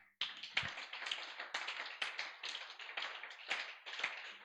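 A church congregation claps together in a rhythmic, bright burst at a midday prayer service, with fairly close, evenly paced hand claps at moderate volume and no talking.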